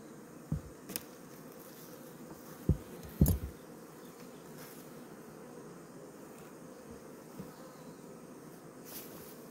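A steady, low insect buzz hums throughout, like bees swarming close by, with a few soft knocks and bumps breaking in near the start.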